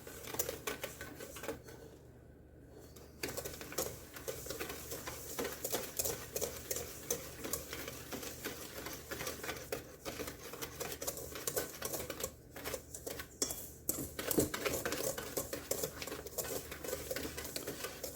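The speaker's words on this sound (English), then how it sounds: "put a cup of sugar, a pat cup of brown sugar. I'm going to go ahead and mix that together" Cup of white sugar and brown sugar being stirred together in a mixing bowl for apple cinnamon oatmeal cookies: steady close scraping and gritty tapping that runs almost continuously, with a brief lull early on.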